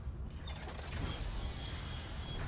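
A heavy sci-fi door mechanism grinds and creaks open in the Dead Space Remake video game, a continuous mechanical whir with ratcheting creaks under a low rumble, moderately loud, with no talking.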